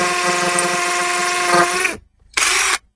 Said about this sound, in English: I've got permission off my neighbour to drill into it. I've got it on hammer setting.